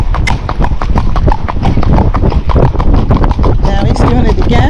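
Hooves of a gaited Kentucky Mountain Horse under a rider, a steady run of close, loud clip-clop footfalls in a quick, even rhythm, with a voice talking over them.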